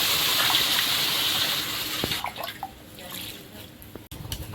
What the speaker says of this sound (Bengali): কুমড়োর মধ্যে এবার জল